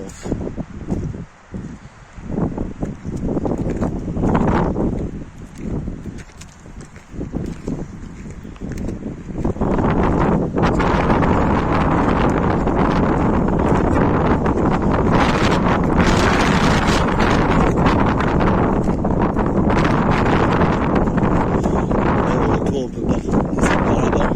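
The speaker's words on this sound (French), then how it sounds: "Un petit vent frais." Wind gusts buffet the microphone at Lac de Chabarrou, building into a loud, constant rushing roar that fills the second half.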